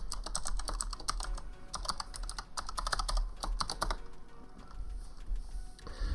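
Quick, irregular keystrokes on a computer keyboard as a root password is entered while setting up a Proxmox server in a home lab, close and steady for about four seconds before slowing to a few sparse taps.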